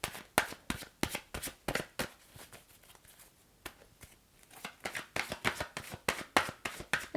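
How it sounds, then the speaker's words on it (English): A deck of oracle cards is shuffled by hand in quick bursts of crisp riffling flutters, pausing briefly midway before resuming close and clear. "I'm just going to draw an oracle card for you."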